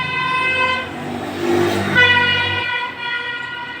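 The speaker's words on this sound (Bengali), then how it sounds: "গাড়ির আওয়াজ শোনো মাথা খারাপ হয়ে যাবে গাড়ির আওয়াজে" A loud siren wails close by over road traffic noise, its tone holding, briefly dipping, then returning; no one speaks.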